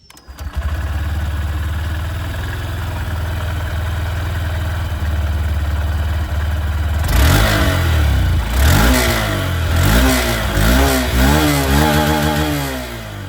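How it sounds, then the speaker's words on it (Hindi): A Honda SP 125 motorcycle engine idles steadily, then its exhaust is revved several times in rising and falling bursts, loud and close. "दोनों ही बाइक की यहाँ पर जो एग्जॉस्ट साउंड है वो मैं आप लोगों को सुना देता हूँ।"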